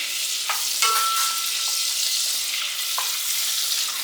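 An ingredient melting in a hot cooking pan for mac and cheese, a steady loud sizzle throughout with occasional soft stirring scrapes, close up.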